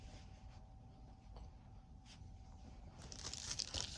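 Packaging for an HDMI cable is torn and crinkled open by hand, a quiet, close series of rustles and rips that grows busier and sharper toward the end, with no talk.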